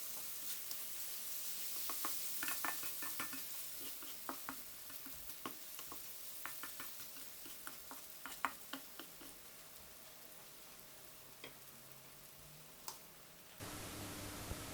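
Eggs and tomatoes sizzle steadily as they are stir-fried together in a pan, a soft continuous crackle dotted with sharp ticks and pops from the spatula, with no talking.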